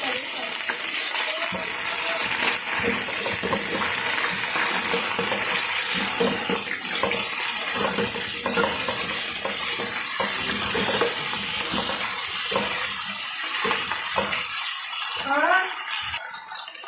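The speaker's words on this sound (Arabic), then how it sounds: "هسه راح اكرملهم ويا الدجاج" Onions, garlic and cold peppers cook with chicken in a pan, giving a loud, continuous hiss and crackle with scraping and stirring noises throughout.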